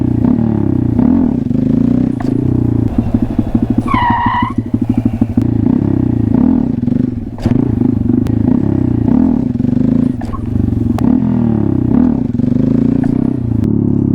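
A Honda Grom motorcycle at wheelie practice, its small engine droning loudly and close with repeated rising and falling revs, a brief rattling burst and squeal partway through, no talking.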